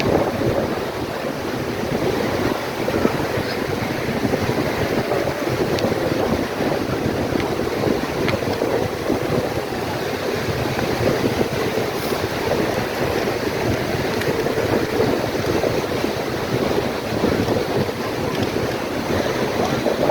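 Ocean waves break on a Fort Myers Beach, Florida shoreline as the tide comes in, a loud continuous surf roar mixed with heavy wind buffeting the microphone, steady for twenty seconds with no speech.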